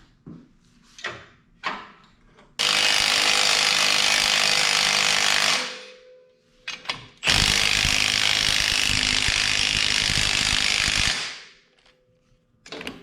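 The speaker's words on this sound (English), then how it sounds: "we're gonna start loosening up the coil compressor" Loosening a coil spring compressor on a fifth-generation Toyota 4Runner: a few short tool clicks, then two long, loud bursts of rattling impact-wrench hammering, each several seconds long, separated by a brief pause, close up with no talking.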